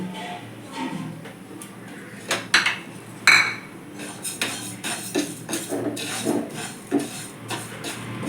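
Gobindobhog rice is dry-roasted in an empty wok, with a utensil stirring and scraping through the grains in repeated close metallic clinks and rasps, fairly steady and irregular in rhythm.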